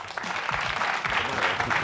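Studio audience applauding on the Greek game show Wheel of Fortune, a dense, loud burst of clapping from a crowd that holds steady across the whole moment.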